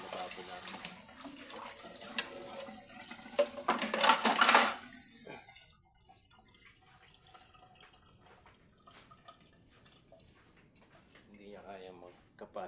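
Tap water runs loudly over customers' dishes being washed in a sink, a dense hiss for several seconds before the flow stops; faint clinks and a voice follow.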